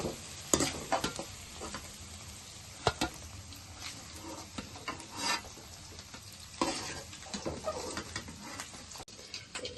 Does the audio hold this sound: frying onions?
yes